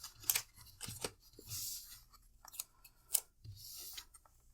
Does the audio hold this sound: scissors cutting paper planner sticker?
yes